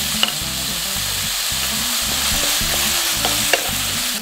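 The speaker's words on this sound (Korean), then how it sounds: "고기를 넣고 볶겠습니다" Meat stir-frying in a pan for Korean-style jajangmyeon, a steady loud sizzle with repeated rhythmic scraping strokes of a utensil stirring through it, close and continuous with no talk.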